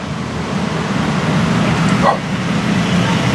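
A single short dog bark rings out at a distance over a steady hum of traffic.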